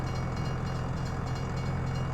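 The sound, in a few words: train passing in video game Farming Simulator 22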